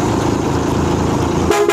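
A tourist bus air horn sounds as one loud, sustained tonal blast over steady road and engine noise, then breaks into two short, sharp toots at the end.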